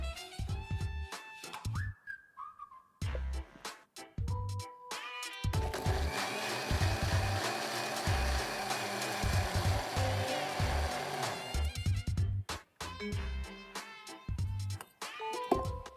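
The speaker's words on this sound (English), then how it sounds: "I'm going to grind this into a smooth puree." A grinder blends carrot ginger soup into a smooth puree, running in loud whirring bursts with a long continuous roar in the middle and shorter pulses before and after, over a background of music.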